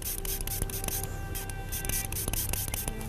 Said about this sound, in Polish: taki mały w sprayu, popsykamy troszeczkę